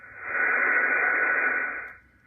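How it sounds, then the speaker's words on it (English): An amateur radio receiver set up for WSPR plays in the background, giving a steady, moderately loud hiss of static that swells, holds for about two seconds, then fades. "if you can hear my radio in the background"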